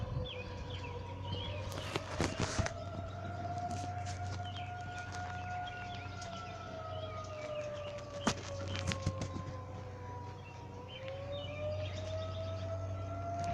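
Tornado siren test in spring and summer, a distant wailing outdoor siren rising and falling slowly for many seconds, with birds and roosters calling nearby and occasional sharp clicks and knocks.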